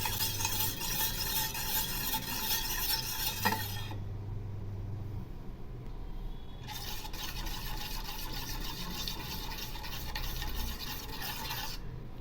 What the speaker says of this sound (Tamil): இதை நல்லா மிக்ஸ் பண்ணிகிட்டே இருக்கணும்.